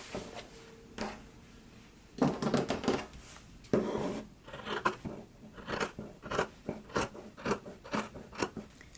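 Scissors snip through a fabric seam allowance while sewing a skirt, trimming it down to a quarter inch: a close, steady run of sharp crisp cuts, sparse at first and then quick and rhythmic, with no talk.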